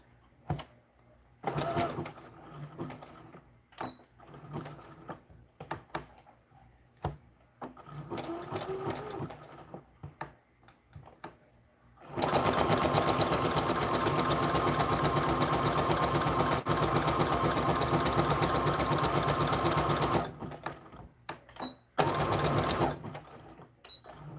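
A sewing machine zigzag-stitches the edges of a doll skirt back panel, running in a loud steady burst of about eight seconds after shorter start-and-stop runs and handling noises.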